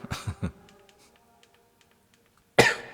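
A woman on a Catholic catechism livestream coughs, a quick cluster of three close coughs, then quiet with faint ticks, then one more loud, harsh cough at the end.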